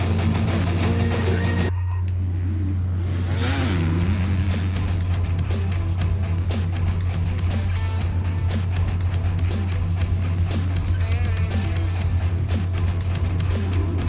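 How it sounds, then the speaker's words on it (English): A race car engine screams through a fast lap of Maple Valley in a racing video game, loud and continuous with a steady drone and shifting pitch throughout. "we're gonna go ahead and start up Materley Basin here and throw down a fast lap"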